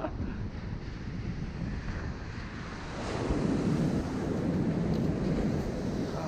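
Ocean surf rolls onto the beach at Sebastian Inlet, Florida, a steady wash of breaking waves with wind buffeting the microphone. The surf swells louder about halfway through, and no one speaks.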